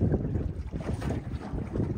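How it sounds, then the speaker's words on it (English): A big ship approaching across the water of Port Phillip Bay, a steady low rumble of engine and hull mixed with wind buffeting the microphone, continuous and moderately loud with no voices. "It's a big ship coming."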